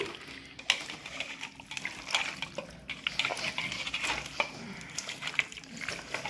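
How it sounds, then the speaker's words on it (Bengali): Food being marinated with arrowroot and stirred in a bowl at home, a run of wet squelching and scraping strokes with small clicks, close to the listener and fairly soft, with no talking over it. "তো দেখো আমি অ্যারারুট দিয়েছি, দিয়ে আমি এটাকে আবার ম্যারিনেট করছি।"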